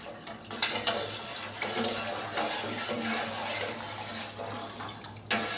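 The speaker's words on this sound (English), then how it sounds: "now I put in the soya milk. This is 1 liter of soya. Pour it slowly." One liter of soya milk poured slowly into a big pot, a steady liquid splash broken by a few soft clinks of the container and pot.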